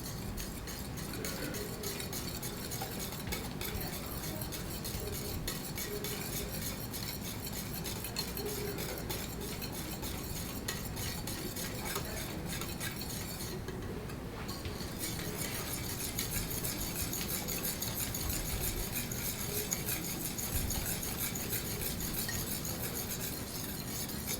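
Strawberry cream being whisked makes a soft, steady run of quick scraping and clinking strokes that lasts throughout at a low level, with no one talking.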